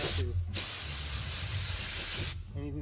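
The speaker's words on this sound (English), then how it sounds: "Anything that fell down, spray it all away." A steady, loud hiss of spray cleaning debris away during a Duramax LML DEF sending unit replacement runs for about two seconds, with brief low voices or noise before and after.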